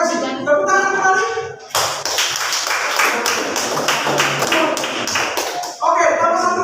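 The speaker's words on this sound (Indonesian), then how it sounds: "Tepuk tangan kembali." A classroom group claps together in a dense burst lasting about four seconds, set between stretches of a voice talking at the start and end.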